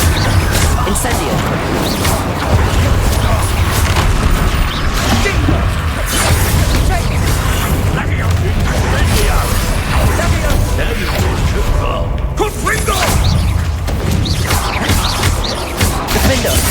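Spell blasts from Incendio and Confringo fire in Hogwarts Legacy combat, a dense, loud barrage of crackling bursts and booming impacts that never lets up, with voices shouting over the clash.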